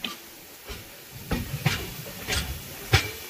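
The Kerala Express pulls into Katpadi station with a soft background hiss and a series of spaced metallic clunks and clacks that grow slightly louder as the train comes in.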